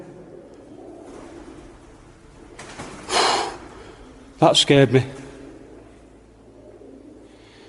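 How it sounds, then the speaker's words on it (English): Pigeons in an abandoned building give a burst of flapping and a few cooing calls, close and fairly loud, while a person speaks nearby. "But there's quite a lot of pigeons in here."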